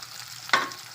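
Chopped small onions (shallots) dropped into hot oil, a single sudden hiss that flares and fades within a fraction of a second over a faint background sizzle.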